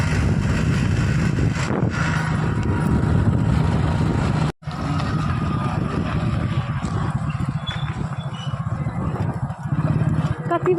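A motorcycle rides along a village forest road, its engine a steady close rumble mixed with wind buffeting, briefly cutting out once, while people talk over it.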